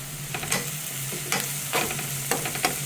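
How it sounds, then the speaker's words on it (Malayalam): Sliced onions are stirred in a hot pan for a home-style chicken roast. A spoon scrapes the pan in several distinct strokes over a steady close sizzle of frying, and nobody speaks. "ഉള്ളി തുറന്നൊന്ന് ഇളക്കി കൊടുക്കാം."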